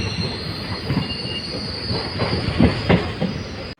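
A passenger train pulls out of Angamaly railway station, wheels grinding and squealing on the rails with rhythmic clatter underneath, loud and close throughout.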